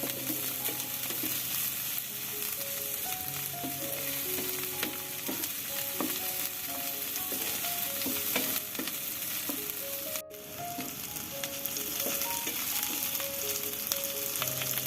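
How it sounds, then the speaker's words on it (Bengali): Cauliflower frying in a pan, a dense continuous sizzle with spatula scrapes and light clinks while it is stirred, close and steady throughout with no talking. "এখন আবারও সবকিছু 2 মিনিট ফ্রাই করে নিচ্ছি।"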